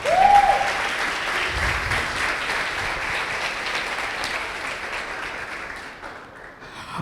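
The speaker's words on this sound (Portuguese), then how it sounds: "Você pode aplaudir?" A church congregation breaks into sustained applause, a dense wash of clapping hands filling the room from start to finish and gradually thinning toward the end.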